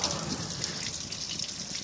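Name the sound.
clear water from a house hose pumped through a heater core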